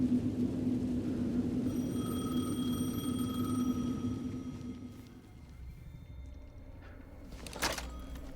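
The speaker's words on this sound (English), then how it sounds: "The phone again." A telephone in the video game Alan Wake 2 rings with a steady electronic tone over low rumbling ambience for several seconds, then stops, followed by a faint click and a short clatter near the end.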